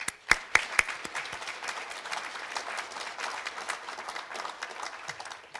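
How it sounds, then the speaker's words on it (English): Audience applause at a physical therapy hooding and pinning ceremony, opening with a few sharp distinct claps and then settling into a steady, moderate round of clapping from a mid-distance crowd that continues evenly throughout. "A quick round of applause for them."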